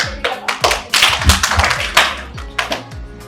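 Hand claps made during a classroom-style talk about film frame rates, a quick run of sharp, close, loud claps in an uneven rhythm with short gaps between them.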